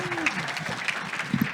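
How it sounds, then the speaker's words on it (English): Audience applause greeting a guest speaker at a talk, a short burst of clapping heard along with some speech. "Please give him a warm round of applause."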